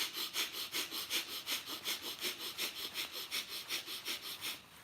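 Rhythmic, even breathing during a guided breathing meditation, with about twenty quick airy inhale-exhale pulses repeating steadily and close to the microphone, with no talking.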